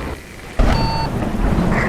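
Steady rain and a low rumble of thunder fill a night drive in American Truck Simulator, loud and continuous, with a sudden swell in the downpour partway through and a faint beep-like tone briefly above it.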